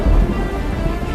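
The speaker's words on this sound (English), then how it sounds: "torrential rain the next." Heavy torrential rain in the Kakadu wilderness, a loud dense broadband roar with a deep rumble at the start, continuous over the brief moment.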